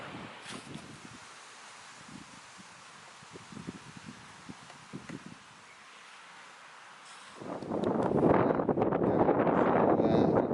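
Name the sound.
wind blowing on an allotment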